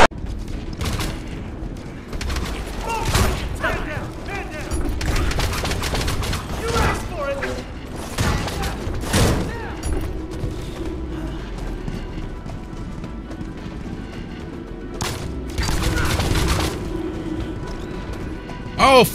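Shotgun gunfire in a video game: a string of loud, punchy blasts spread irregularly across the stretch, mixed with thumping footsteps and crashing impacts, with a voice talking over parts of the action.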